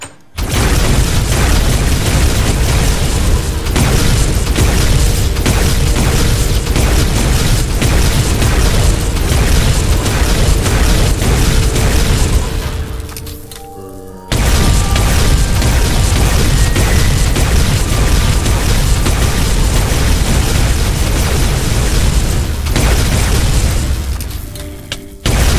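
Relentless, loud video-game gunfire and booming blasts in a dense barrage, pausing briefly midway before resuming just as intensely.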